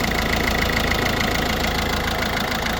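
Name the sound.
Peugeot 1.6 diesel car engine starting and running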